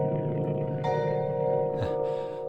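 A virtual orchestra organ part holds steady, sustained chords with a bright, bell-like upper shimmer and a low growl underneath, continuous and fairly loud throughout.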